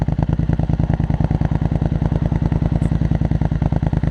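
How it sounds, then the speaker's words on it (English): A Triumph Scrambler 900 with an aftermarket Arrow exhaust idles with a deep, loud, rapid lumpy exhaust rumble, steady and close, with no voices. "So anybody looking for that Aero exhaust sound, that's the idle."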